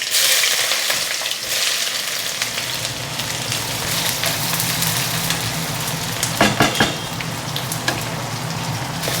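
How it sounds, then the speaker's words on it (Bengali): Onions hit hot oil in a pan for chicken kosha and fry with a dense, loud, crackling sizzle, close up and continuous, with a few brief stirring clatters near the end. "এবার আমি পেঁয়াজটা দিয়ে দেবো"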